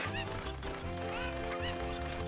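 Cucco chickens in a Zelda Ocarina of Time randomizer let out loud, repeated honking squawks in quick bursts over a layered musical backdrop.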